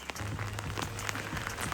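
Steady rain pours down over a village, a dense, even hiss of drops striking surfaces close by, continuous and moderately loud throughout with no voices.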